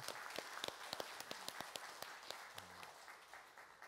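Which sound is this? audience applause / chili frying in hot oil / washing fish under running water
audience applause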